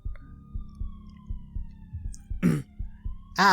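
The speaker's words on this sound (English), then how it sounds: "The shrill sounds of the distant police sirens finally cut their way through the fog inside my head." Faint, distant police sirens from a video game wail as a thin, drawn-out tone over a steady rhythmic thumping background, with a couple of louder bursts breaking in near the end.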